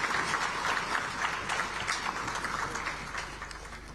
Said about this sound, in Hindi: तालियों की गूंज